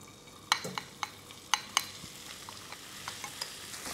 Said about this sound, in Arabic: وقلب شوي بس ليدبل عندي البصل